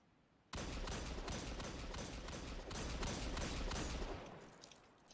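Rapid sustained gunfire from a weapon in Destiny 2, a dense loud burst of repeated shots lasting about four seconds before cutting off, heard alone without talk.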